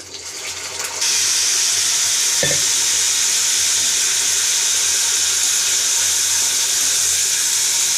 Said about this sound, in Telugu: ఇప్పుడు ఆయిల్ వేడైంది మటన్ వేసుకున్నాం